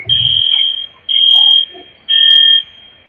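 An alarm sounds in a city, three loud piercing electronic beeps, each about half a second long, separated by short gaps, with no talk.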